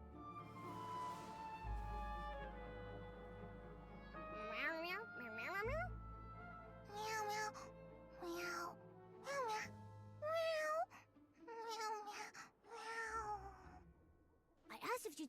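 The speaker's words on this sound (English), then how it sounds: "Meow, meow, meow" A cat meows again and again in the video game Infinity Nikki: a string of drawn-out, bending meows, some short and some long, over a soft game music bed.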